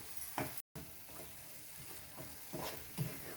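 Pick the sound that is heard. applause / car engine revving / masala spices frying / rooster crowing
masala spices frying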